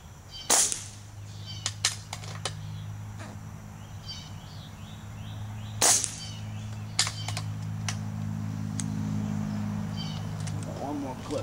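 Crosman Mrod air rifle firing pellets at a bullseye target, a few sharp cracks spaced seconds apart with small clicks and handling noises between, over a low steady hum.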